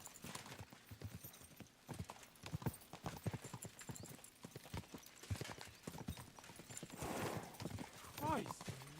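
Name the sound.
horse hooves clip-clopping, Kingdom Come: Deliverance 2 video game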